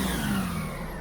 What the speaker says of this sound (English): Rev it up again.